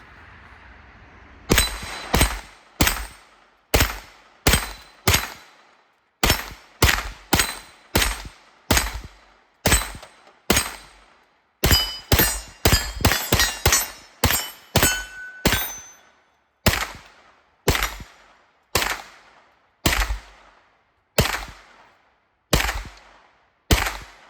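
A Beretta PX4 Storm 9mm carbine fired in semi-automatic shots, around thirty sharp loud reports with ringing decay, spaced in an irregular rhythm with a quick cluster near the middle.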